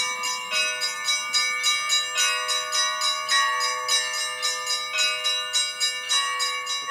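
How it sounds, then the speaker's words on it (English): A church bell in Antarctica rings steadily in a loud, close, regular peal of repeated strikes whose ringing tones overlap and sustain throughout. "I haven't heard bells in a long time"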